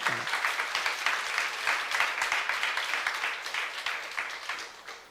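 A church youth congregation applauds after a sermon, a steady wash of many hands clapping at moderate distance that fades toward the end, with no talk over it.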